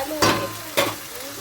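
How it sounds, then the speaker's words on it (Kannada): Cumin and mustard seeds crackle in hot oil as a tempering with curry leaves and garlic, two sharp bursts of sizzle about half a second apart over a soft steady hiss, fairly close. "ಜೀರಿಗೆ, ಸಾಸಿವೆ ಹಾಕಿ ಒಗ್ಗರಣೆ ಕೊಟ್ಕೊಂಡಿನ್ರಿ ನಾನು"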